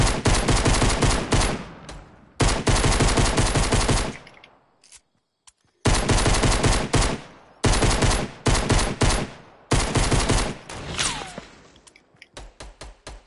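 Gunfire in a squad-mode shooter video game, loud rapid bursts of repeated shots in several long volleys separated by short pauses, close and dominant with almost no talk.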